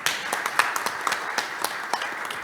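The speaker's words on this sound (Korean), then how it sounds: "찬사와 박수를 드리지 않을 수가 없습니다" Scattered clapping from an audience at a panel discussion, a thin round of separate hand claps at a moderate distance, fairly quiet and unaccompanied by speech.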